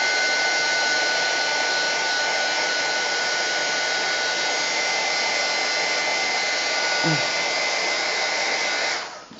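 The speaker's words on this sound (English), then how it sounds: "So again, excuse the noise, I'm just going to quickly heat that." Heat tool blows steadily on ink-colored seam binding ribbon, a constant loud whirring hiss held close for several seconds before switching off at the end.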